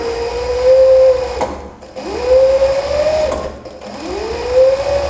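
A sewing machine runs zigzag stitches along a fabric edge in three loud, close bursts, each whirring hum rising then stopping briefly before the next.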